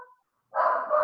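A small dog gives one short, fairly loud bark after a brief silence, close to the microphone.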